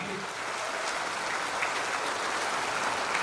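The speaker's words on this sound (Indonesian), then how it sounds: "Marilah berikan tepuk tangan kepada Menteri ATR BPN yang baru" Audience applause at a handover ceremony for the new ATR/BPN minister, an even, continuous wash of many hands clapping that sounds dense and slightly distant, like rain, and stays steady throughout.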